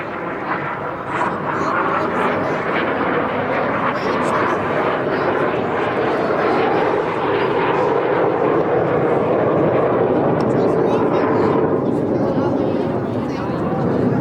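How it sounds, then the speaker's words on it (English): Red Arrows jet aircraft fly an airshow display at Blackpool, performing barrel rolls and crossing in the middle, with a loud, continuous jet roar sustained throughout under a commentator's voice. "each aircraft perform a barrel roll, cross in the middle, as they perform the manoeuvre called the circus"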